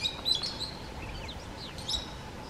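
Wild Meyer's parrots call in open Ugandan savanna woodland: a few short, sharp, high chirps come in two brief bursts over a quiet airy background, at moderate distance, with no voices.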